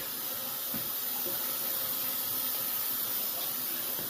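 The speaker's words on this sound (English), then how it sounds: "You can hear I got the water running here to also drain out the sanitary lines" Tap water runs steadily into a drain during a pre-renovation house inspection, flushing the sanitary lines, a constant hissing rush with no pauses and no voices.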